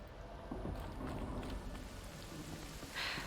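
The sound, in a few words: rain in video game Horizon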